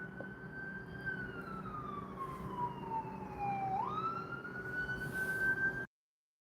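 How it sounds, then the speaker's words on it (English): Emergency vehicle sirens wail outside, one tone sliding slowly down and then back up in a long sweep, heard from a moderate distance and cutting off abruptly, with no talking. "sorry, paused it because of those darn sirens."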